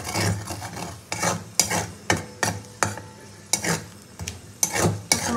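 Spices temper in hot oil while a utensil stirs them, a bright sizzle under repeated sharp scraping strokes against the pan in an uneven rhythm, close and loud with no talking.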